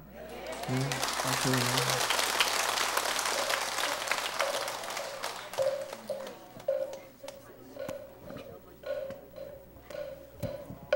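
A temple audience at a Sunday Buddhist dharma service at Jogyesa bursts into dense, sustained applause after a sermon, and the clapping gradually thins out into scattered, fading claps.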